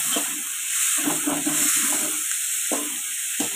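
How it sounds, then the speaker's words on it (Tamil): Onions sautéing in a pan for an egg stir-fry give a bright, steady hiss, broken by a few soft stirring scrapes, close up and alone. "அதனால் நம்ம வந்து எப்பயுமே வெங்காயத்தை வந்து கொஞ்சம் நல்லா வதக்கணும்."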